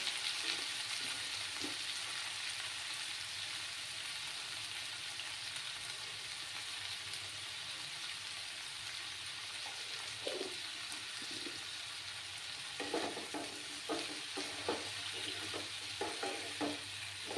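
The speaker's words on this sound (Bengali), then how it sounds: "এবার আমি সবজিগুলো দিয়ে দিচ্ছি" Mixed vegetables with onions fry in a pan at low heat, a steady soft sizzle running throughout, with scattered scraping clicks of stirring growing busier toward the end; no talking.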